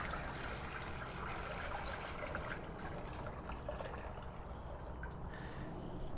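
Water is poured into a pot to make turkey brine, a steady, close trickling rush that runs without a break for several seconds, with no talking.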